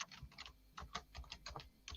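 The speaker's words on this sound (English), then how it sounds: "Tony's got a noisy keyboard" Rapid typing on a noisy computer keyboard, a quick, slightly uneven run of close, crisp key clicks, faint overall and with no voices.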